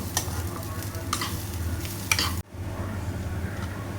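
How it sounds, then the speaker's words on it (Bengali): Gobindobhog rice frying and being stirred in ghee in a pan, a steady close sizzle with scraping stir strokes, then a sudden dip as the heat or stirring shifts before the sizzle resumes, no voices. "এবার চালটাকে খুব ভালো করে কিন্তু ঘিয়ে ভেজে নেব"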